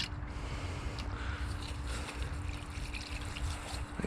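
Water from a hose or can trickles steadily onto the soil at the base of a garden tomato plant, a soft continuous wash with a low hum running underneath and no talking.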